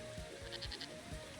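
A goat in the video game Moving Out 2 gives a short, wavering bleat, fairly close and clear over a quiet game background with a faint steady tone.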